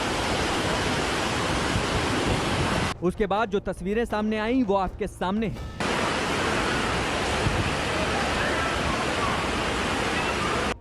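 Rushing floodwater surges through a drain overflowing after heavy afternoon rain, a loud, constant roar filling the whole stretch, briefly broken by someone speaking over it.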